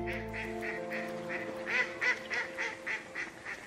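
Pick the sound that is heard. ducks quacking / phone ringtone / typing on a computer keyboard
ducks quacking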